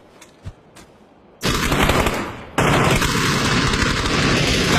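Gunfire in a team-based shooter video game: after a quiet opening with a few faint ticks, loud, sustained rapid automatic fire starts abruptly and then grows even heavier partway through, continuing to the end.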